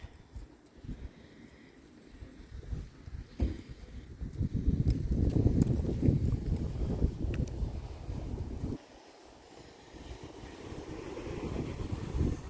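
Cold wind blows outdoors on a nippy, chilly day, a loud low rumbling gust buffeting the microphone that swells through the middle, drops suddenly, then returns as steadier blustering.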